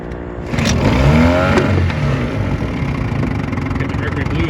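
A 1963 Mercury 110 9.8 hp antique outboard motor runs loud and steady at close range, its low engine drone rising briefly in pitch as it revs, then settling into a continuous rumble.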